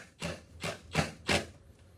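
An impact wrench tightens 12mm bolts in a car's rear seat area, firing four short, hard rattling bursts at a steady pace, close and fairly loud with quiet gaps between them.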